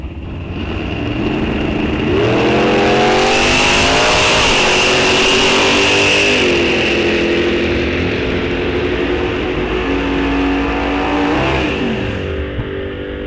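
A drag race car accelerates hard down the track at Rock Falls Raceway during a bracket race. The engine note is loud and close, rising through several gear changes in a steady, continuous roar with no voices.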